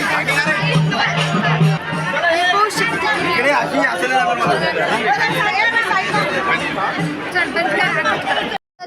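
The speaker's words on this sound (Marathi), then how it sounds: "तर इथं आजच लई गर्दी चालू आहे" A dense crowd of pilgrims climbing the temple steps at Jejuri fills the air with steady, close chatter and babble, a voice speaking over the hubbub throughout before a brief cut near the end.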